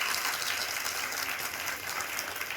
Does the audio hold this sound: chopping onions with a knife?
no